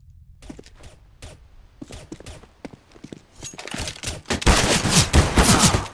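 Decoy grenades in CS:GO mimic gunfire as a quick run of sharp shot-like cracks, sparse at first and then building into a loud, dense fusillade near the end.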